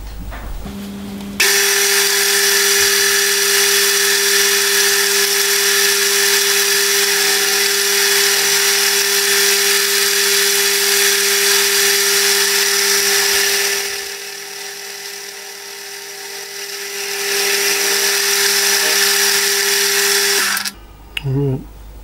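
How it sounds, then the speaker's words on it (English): A faceting machine taking a 1mm cut on a part, running as a loud, steady whine with a sustained tone that holds for about twenty seconds, dips briefly in the middle, then stops abruptly near the end. "I'll touch off and then take a 1mm cut."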